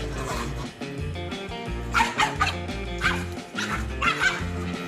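A dog barks and yips at a taunting monkey, sharp repeated barks in short bursts about once a second, heard over a steady musical backing.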